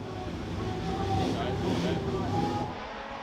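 A Jaguar D-Type race car climbs the hill at the 2023 Goodwood Festival of Speed, its engine a swelling roar that builds and then eases away under commentary.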